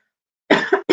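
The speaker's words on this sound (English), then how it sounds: "I started coughing." A single person coughs twice in quick succession, close and clear after a moment of silence, with no talk.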